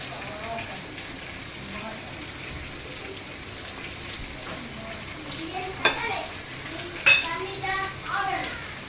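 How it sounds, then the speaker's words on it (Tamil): Cumin seeds crackle in hot sesame oil for a Kongu-style chicken dish, a steady faint sizzle running throughout with a few sharper pops near the end, while a voice talks over it. "இப்போ எண்ணெய் காஞ்சிடுச்சு. ஜீரகத்தை போடணும்."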